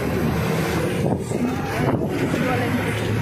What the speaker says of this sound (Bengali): ওয়েদার তো হাওয়া আছে, একটা ঠান্ডা ঠান্ডা হাওয়া আছে